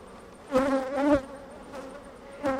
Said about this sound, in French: juste derrière on a un vol d'orientation de la ruche voisine, ça fait pas mal de bruit